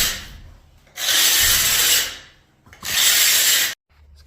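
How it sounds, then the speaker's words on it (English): Carbide blade scraping and scoring an old floor coating down to the concrete, two loud rasping strokes about a second each, close up, with quiet pauses between them. "I'm going to use the carbide blade instead. I'm giving it some nice score marks so that I can get to the concrete underneath."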